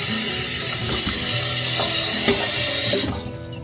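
Water poured into a cooking pot, a loud steady gushing splash with some sizzle, heard close up for about three seconds before stopping abruptly.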